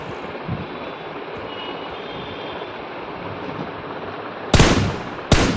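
Gunfire in the mobile battle royale game BGMI, two sharp loud bursts near the end after a stretch of windy, rushing ambient noise.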